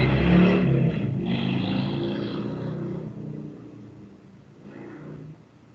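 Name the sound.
motorcycle passing by outside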